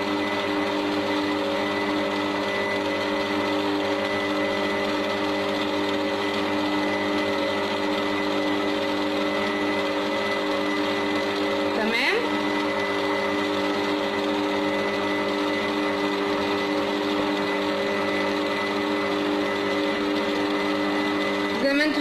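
An electric mixer beats a hot homemade marshmallow mixture of sugar, honey and water, giving a steady, unbroken motor whine with a constant pitch that runs throughout.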